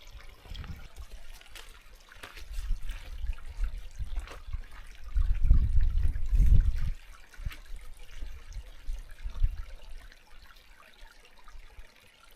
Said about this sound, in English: I'm just perched on the path that comes down the side of the waterfall.